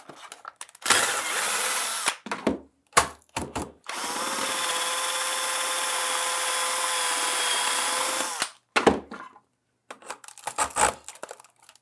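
Power drill boring a twist bit through a plastic toy part: a steady whining drill run of several seconds, bracketed by shorter bursts of drilling and clattering handling noises, close and loud.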